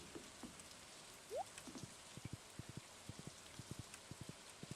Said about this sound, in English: Thank you for a nice rainy day, Mr. Rain Totem.